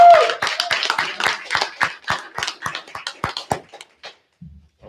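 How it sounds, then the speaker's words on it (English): Audience applause for Christmas card design winners at a school board meeting, a burst of brisk clapping from a small crowd that thins out over about four seconds before fading to quiet. "One more round of applause for our Christmas card design winners."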